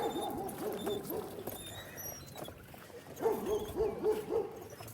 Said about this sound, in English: Somebody's dog is up here barking.